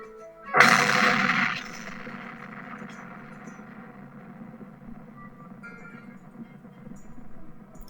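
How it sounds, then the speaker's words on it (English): An explosion in the video game Grimm's Bounty Hunter bursts suddenly and loudly, then fades into a long rumbling decay with lingering debris-like noise. "The explosion sounded."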